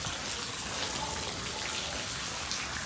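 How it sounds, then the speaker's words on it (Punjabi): Heavy rain pours down steadily outdoors, a dense unbroken hiss of falling water at an even level for the whole stretch. "ਮੀਂਹ ਬੜਾ ਜ਼ਿਆਦੇ ਪਈ ਜਾਂਦਾ ਹੈਗਾ"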